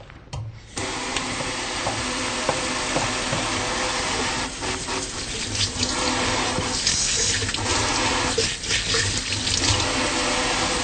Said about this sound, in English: I'm going to take a minute to wash my hands.